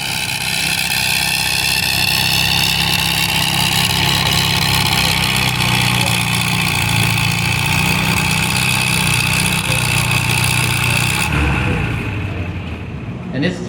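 A Farmall 300 tractor pulling in the 4,700 pound class at a tractor pull roars under steady heavy load for a long, loud, sustained stretch before easing off near the end.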